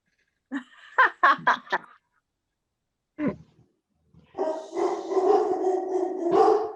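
A dog gives a few sharp barks up close, followed after a pause by a single yelp and then a long, loud drawn-out howl or whine with no talk over it, in what sounds like an indoor council meeting.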